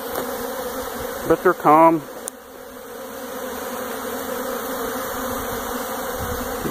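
Honey bees buzz in a steady, close hum around nucleus hives with robbing boxes during a robbing period, with a few louder passes near the start and a person speaking briefly.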